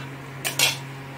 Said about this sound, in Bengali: এবার দিয়ে দেব আমগুলো